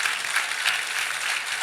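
A church congregation applauds together during a Sunday service, a steady dense patter of clapping that fills the room without pause.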